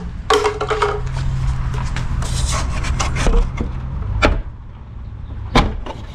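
Cracked rivets popped off a part of a 1994 OBS truck, a series of sharp metallic snaps and knocks with scraping and rubbing between them, close and fairly loud, no talk.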